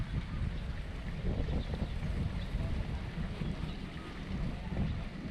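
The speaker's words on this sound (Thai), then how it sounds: "ลมแรงกว่านี้นะลมมันพัดทุ่น" Strong wind gusting across an open fishing pond at a Buriram fishing park, a steady loud low rumble of buffeting air against the microphone with no talk over it.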